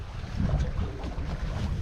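Wind and water rushing steadily past a sailboat under full sail, making about 4 to 5 knots in an 8 to 9 knot breeze; broadband, continuous and fairly loud, with no voices.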